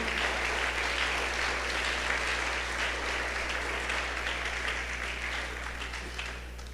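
A church congregation claps for the King in a worship service, a sustained, evenly dense round of applause carrying on for several seconds, fading slightly toward the end over a steady low hum.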